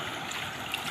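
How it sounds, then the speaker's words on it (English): Water of the Laoti river in Chirang, Assam flowing steadily near a sluice gate, a close, even rushing wash with a light trickling texture and no voices. "water flowing."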